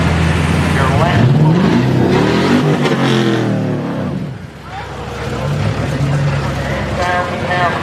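A Ford F-650 truck pulling at a truck and tractor pull, its engine roaring loud and continuous with rising and falling revs, dipping briefly midway before building again, with an announcer talking over it.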